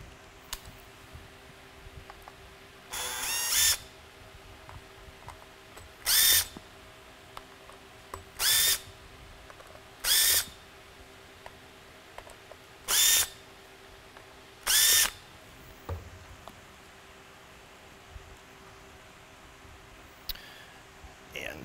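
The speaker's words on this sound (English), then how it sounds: "to remove the heat sink and electronics assembly from the polycarbonate lens, it's a matter of removing mounting screws." Power drill backing out small mounting screws from a Whelen M7 lighthead's polycarbonate lens and heat sink assembly, six short whirring bursts of about half a second each, spaced a few seconds apart, close and alone over quiet room tone.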